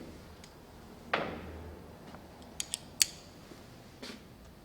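Small retaining screws fitted by hand into a two-stroke KTM cylinder head during a power valve rebuild give a few faint, close metallic clicks and ticks, with one soft scrape early on, over a quiet workshop background.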